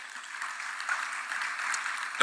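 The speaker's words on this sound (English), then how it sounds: "Let's put another round of applause for" Applause at a business forum, a brief even patter of clapping at moderate distance, with a louder sound at the very end.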